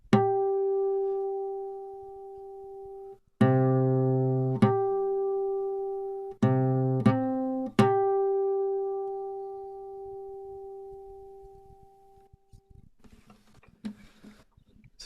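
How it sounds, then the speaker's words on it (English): Two pitched tones forming a perfect fifth at a 3:2 frequency ratio are sounded together several times. Each clear, sustained chord fades slowly before the next is struck, leaving a quiet tail at the end. "if I go to the ratio of 3 to 2, so this would be 3 and this would be 2, I'm going to get the perfect fifth"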